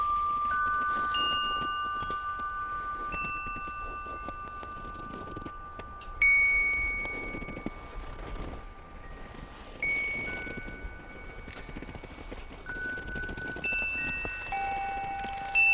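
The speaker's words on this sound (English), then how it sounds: "This is a work for percussionists playing a glockenspiel and amplified snow." Sustained glockenspiel notes ring out one at a time at different pitches, played by percussionists over a soft, continuous crackling and crunching of amplified snow being pressed.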